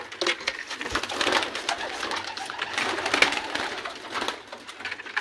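Pigeons cooing at a loft with a fluffy feathered pigeon among them, soft repeated coos under steady rustling and scratchy clatter throughout, close and moderately loud.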